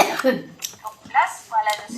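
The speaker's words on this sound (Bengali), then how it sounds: "মা এত ঝাল দিচ্ছে কাশছে" Several short coughs and throat-clearing sounds from a person eating very spicy food come in quick succession, close by, mixed with brief vocal noises.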